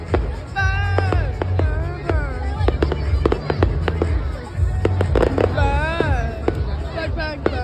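Fireworks burst in a rapid string of sharp bangs and crackles, with whistling rising tones over a low rumble and a lively crowd talking and cheering throughout.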